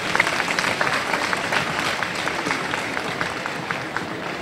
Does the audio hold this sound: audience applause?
yes